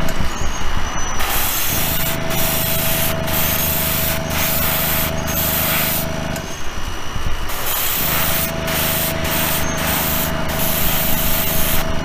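Airbrush spraying Spaz Stix green-purple-teal color shift paint onto a model car body, a steady close hiss of air and paint running almost continuously, with brief pauses between passes.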